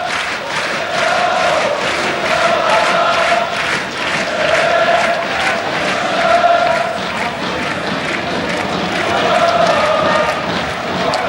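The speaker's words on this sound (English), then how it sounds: "This crowd never stops, does it?" A packed Galatasaray stadium crowd roars and chants without pause at a 1994-95 Champions League football match against Manchester United, a dense, loud, rhythmic wall of voices that swells in waves.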